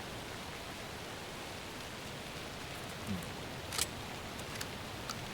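Steady rain falls in Alan Wake II, a soft, continuous hiss of drops pattering on surfaces, faint and even throughout, with a couple of brief small clicks near the end.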